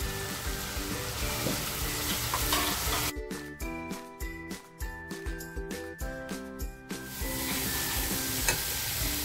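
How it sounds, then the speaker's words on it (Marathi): Turmeric and homemade masala hit hot oil for a vajri pulao, a dense close sizzle that drops for a few seconds into a series of rhythmic stirring scrapes before the loud frying hiss returns. "हळद जी घेतली होती ती टाकते। घरगुती मसाला टाकते आता।"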